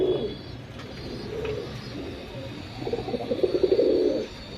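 A domestic male pigeon coos close by in soft, repeated bursts, growing louder toward the end of the stretch, with no talk over it.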